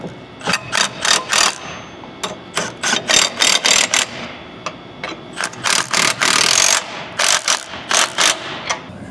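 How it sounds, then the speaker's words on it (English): A ratchet wrench with a 19 mm socket tightens the strap bolts on a 60-gallon fuel tank under a 1999-2010 Ford Super Duty, giving loud, close, rhythmic bursts of ratcheting clicks with brief pauses between strokes. "Now with the 19 mil, we'll get these tightened up."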